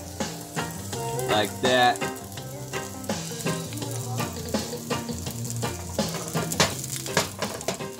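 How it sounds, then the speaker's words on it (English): Onions fry and sizzle steadily in a hot pan with occasional stirring scrapes, close and fairly loud, while a voice briefly speaks over it. "Cook those onions down until they're almost translucent."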